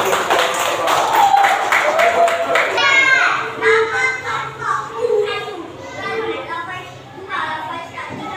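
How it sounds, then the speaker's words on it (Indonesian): A classroom group claps together for a performance by a large group of students, a bright scattered patter of hands with children's voices and chatter running over it throughout. "Sekarang kita beri tepuk tangan semua."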